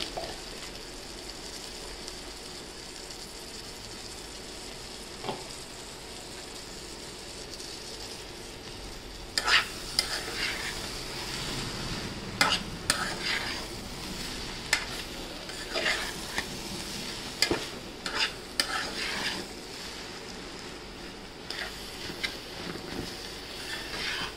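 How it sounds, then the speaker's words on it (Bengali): Vegetable bhaji with coriander leaves fries in a pan with a continuous soft sizzle. From about halfway, a spoon scrapes and clacks against the pan in a series of sharp stirring strokes. "আমি অফ ক্যামেরায় লাড়া দিয়ে দিচ্ছি 2-3 বার"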